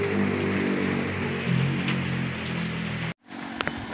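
Heavy rain pours down in a dense, steady patter close by, then cuts off abruptly near the end, leaving a brief near-silence with a few faint knocks.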